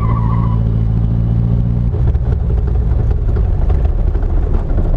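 A Chevrolet Chevette drifts, its engine droning loud and steady, then breaking into a rougher, scraping roar as the car slides, with no talk over it.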